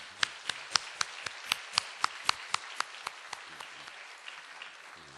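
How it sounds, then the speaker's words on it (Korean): A small church congregation claps in unison during a worship service, about a dozen crisp, evenly spaced claps that gradually fade into scattered, softer hand claps. "박수로 환영하겠습니다."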